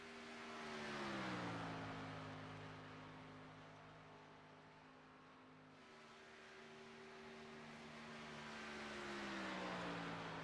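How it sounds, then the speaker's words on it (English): Race cars on a tri-oval qualifying lap, engines droning at a steady pitch that rises and falls as a couple of cars circle past at a distance, with no talk. "Really not much going on right now, except for a couple of cars out here and in their one lap of qualifying"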